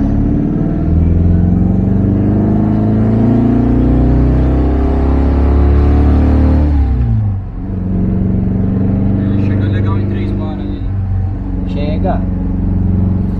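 A Volkswagen Beetle with a 1900 engine revs up in a strong low rumble, then drops back to a lower idle, close by, with someone talking over it.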